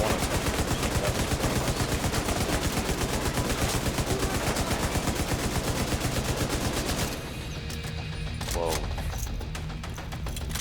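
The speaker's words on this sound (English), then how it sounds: "Love the LMG." Loud, rapid sustained light machine gun fire in The Division 2, a continuous rattling burst for about seven seconds before cutting off to quieter game ambience with a brief voice.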